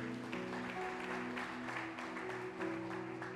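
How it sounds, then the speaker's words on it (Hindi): Congregation clapping during a Hindi-language church service: soft, continuous rhythmic handclaps over sustained musical tones, heard at a distance and at low level. "ताली बजाकर प्रभु को महिमा करें"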